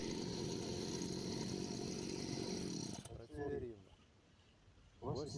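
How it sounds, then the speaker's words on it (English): A brushcutter engine hums steadily at an even idle after carburetor adjustment for about three seconds, then cuts out, leaving someone speaking over quiet background. "Now the idling is good, listen, it works smoothly."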